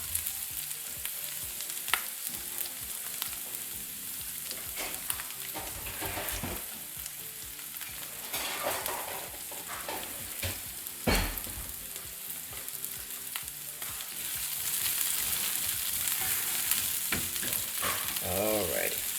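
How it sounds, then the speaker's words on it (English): Vegetables and sausage fry on a hot griddle with fat, giving a steady close sizzle and crackle with intermittent scraping stirs and a few sharper knocks, growing slightly louder toward the end. "just fry it a little bit"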